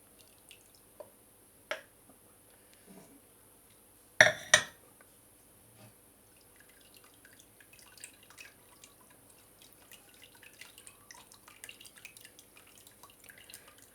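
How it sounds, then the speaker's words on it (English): Plum juice drips through a sieve in sparse, faint, irregular drops and small clinks, with a couple of louder splashes early on and quiet trickling ticks afterward. "just going to pour this into it as well, so that gets sieved once more"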